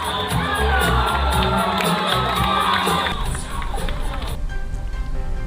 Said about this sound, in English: The crowd went wild when he stepped into that dance circle.